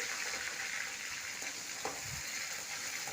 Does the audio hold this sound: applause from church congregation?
no